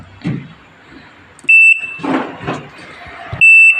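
An LG inverter air conditioner control board, on test with a large inverter fan motor, gives two loud, sharp electronic beeps about two seconds apart between softer clicks and handling noises.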